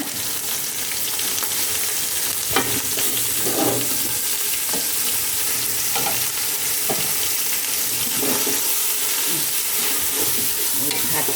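Green curry paste being stir-fried in a large pot in a Thai kitchen, a continuous close sizzle with scraping spatula strokes and clinks of utensils against the pot, steady throughout with no talking.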